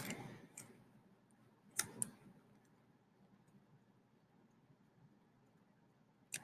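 Computer keyboard typing in a quiet room, a few sparse, faint key clicks in small bursts separated by pauses.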